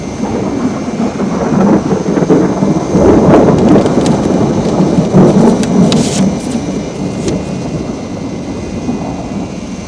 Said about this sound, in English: Is this storm likely to get any worse?